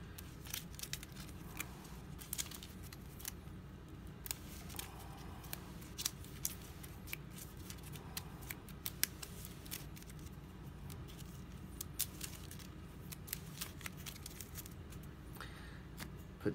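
Shuffling a deck of Villainous board game cards at the table: soft, fast repeated riffling and snapping flicks in quick irregular bursts, faint and close, continuing for a long stretch without speech.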